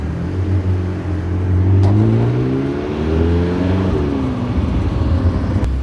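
A yellow Ferrari 488 engine revs up close in the street, a loud, steady rumble with rising and falling pitch sweeps throughout, with no talk.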